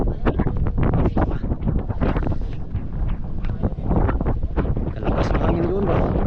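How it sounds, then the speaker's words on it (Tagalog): Strong coastal wind buffets the microphone while a fishing boat is loaded with ice, producing loud, gusty roaring bursts that rise and fall without pause. "Malakas yung hangin doon ngayon."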